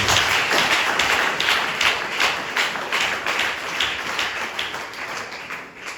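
A church congregation applauds together in sustained, dense clapping that holds steady for several seconds and then slowly thins out.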